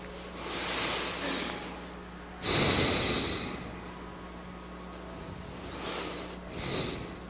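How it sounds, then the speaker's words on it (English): Deep breaths drawn in and let out during a Tai Chi session, with a loud, close inhale at about the midpoint and softer airy breaths before and after it over steady background hiss. "Okay, deep breathing. Inhale."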